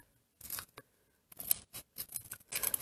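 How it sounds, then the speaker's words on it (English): Scissors cut linocut printmaking material in several short bursts of close snipping and rustling, separated by brief quiet gaps, with no speech. "But first, I got my scissors."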